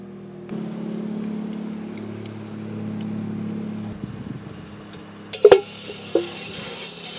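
Bacon fries for breakfast at a wild campsite in Norway. A low steady hum runs first, then a bright, close sizzle bursts in near the end and keeps going alone.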